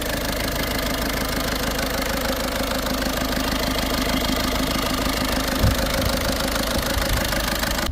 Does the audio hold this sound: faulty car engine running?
yes